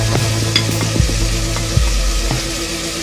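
Spices for chole sizzle loudly in a hot pan while being stirred, a continuous close frying hiss with scraping strokes of the spoon every second or so.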